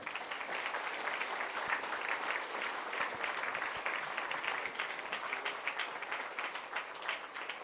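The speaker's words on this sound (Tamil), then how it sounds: "எல்லாம் நல்லா கைதட்டுங்களே." An audience at a church magazine release ceremony applauds with dense, sustained clapping that fills the whole stretch at an even level, with no one speaking over it.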